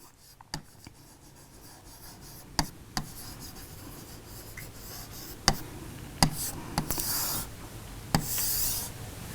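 A pen scratches and rubs across paper while a Gantt chart is drawn by hand, giving soft continuous scraping broken by a few sharp taps as lines are ruled and marks are made, close and quiet.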